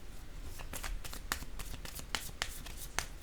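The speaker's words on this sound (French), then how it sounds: "Je vais déposer une carte" Playing cards handled and laid down on a table, a run of crisp, irregular snaps and slaps, close and fairly quiet, with no talking.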